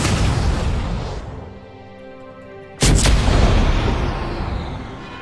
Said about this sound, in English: Close range shot.